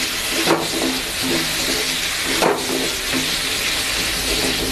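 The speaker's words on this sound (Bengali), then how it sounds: "আর একটু ভেজে নেব।" Potatoes and paneer fry in a pan with turmeric and salt for a vegetarian aloo paneer curry, a steady close sizzle broken by two louder stirring scrapes.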